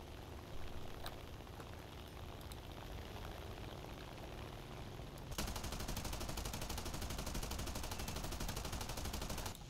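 Aircraft guns firing in a War Thunder dogfight at the BR 3.0 tier with D.520, J22A and F4U-1a fighters: steady engine drone with faint bursts, then sustained rapid machine-gun fire loudly filling the second half.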